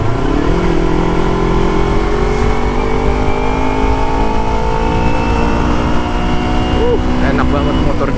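A 250r motorcycle fitted with a new exhaust and jetting kit revs hard and close, its loud engine note climbing steadily in pitch through a long, sustained pull.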